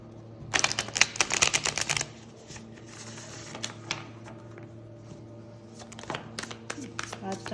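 A deck of tarot cards is riffled in a quick burst of crisp, rapid flutters near the start. Softer card handling and a few scattered taps follow.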